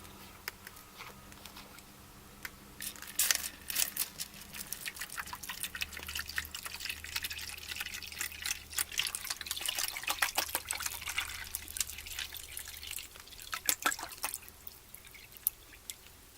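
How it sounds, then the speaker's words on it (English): Water is poured into a bowl and trickles with scattered drips and splashes, soft and close, in a quiet room. "And then I'm going to add the water."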